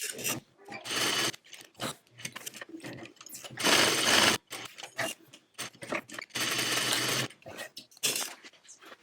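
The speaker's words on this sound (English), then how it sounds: "I'm going to head over to my sewing machine, and I'm going to stitch around this very long zipper opening rectangle" Sewing machine stitching around a long rectangular zipper opening on a wave-top tote bag, running in several close, loud bursts of rapid whirring with short pauses between them.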